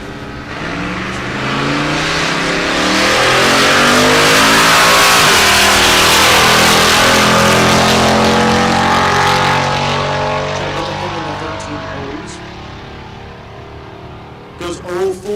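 A Chevrolet S10 drag racing truck makes its pass at Texas Motorplex, its engine roaring loud and rising, sustained across the run, then fading as it pulls away.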